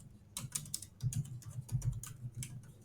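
Keys clatter on a computer keyboard while someone types out a Cypher match query, a quick irregular run of close, light clicks in bursts with short pauses and no talking.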